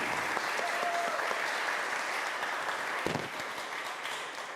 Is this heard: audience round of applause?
yes